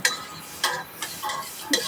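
Two dried red chillies fry in hot mustard oil, a soft sizzle broken by several scraping, clinking stir strokes at irregular intervals, close by and with no voices.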